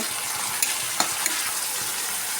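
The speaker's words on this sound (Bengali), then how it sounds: "পেঁয়াজটাকে আমি এভাবে করে হালকা আছে এটাকে আমি ব্রেস্তা করে নেব" Chopped onions fry in hot oil until crisp, a dense, steady sizzle heard close up, broken by a few light taps of a stirring spoon against the pan, with no voices.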